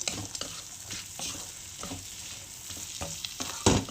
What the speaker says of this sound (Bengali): সেগুলোকে দিয়ে দিচ্ছি এর মধ্যে এবার মশলার সঙ্গে এটা একটু কষিয়ে নেব